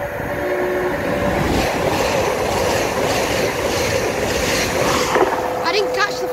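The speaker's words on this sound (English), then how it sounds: "Passing through now is a Northern 6 coacher." Northern six-coach passenger train passing through a station at Clifton, a close steady rumble and rolling clatter of wheels over track with a brief horn-like tone near the end, while a voice talks over it.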